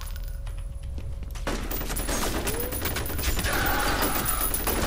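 Rapid video game gunfire in F.E.A.R., bursts of shots that start abruptly and continue as dense, loud fusillade-like firing with no talk over it.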